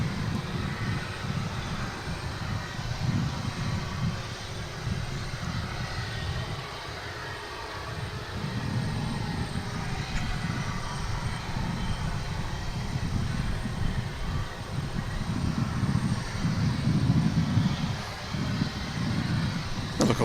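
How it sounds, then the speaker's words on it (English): A UPS Boeing 757 taxis at DFW International Airport, a continuous low, rumbling jet engine roar at a moderate distance, swelling and easing slightly over a long stretch. "757 pulling out. This is the daily flight, or at least weekday flight, that UPS makes to Ontario, California."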